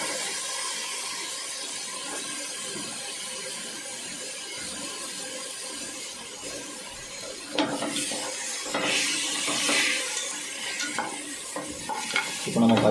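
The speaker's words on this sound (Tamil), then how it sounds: "அடுத்து நம்ம பொடி பொடி அரிஞ்சிக்க வெங்காயம் ஆட் பண்ணிக்கலாம்." Finely chopped onions fry in a pressure cooker for mushroom biryani, giving a steady close sizzle with stirring scrapes that grow louder and busier in the second half, with no talk.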